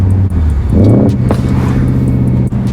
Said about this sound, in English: This car sounds like a beast.